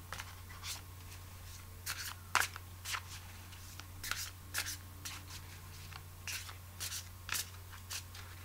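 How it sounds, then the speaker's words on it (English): Short papery bursts of cards being shuffled and riffled, a few quick flurries spaced across the clip over a steady low hum, with no talking. "Sagittarius needs a shuffle"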